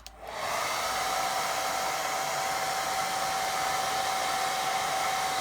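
A hair dryer blowing steadily to dry a watercolour painting, switching on and then running with a constant loud whirring hiss and a thin whine, with no talking.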